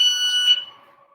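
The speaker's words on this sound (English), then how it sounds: "That beeping is going to be the stuff of our nightmares." A workout interval timer gives a short, bright electronic beep, close and loud, that rings briefly and fades within a second.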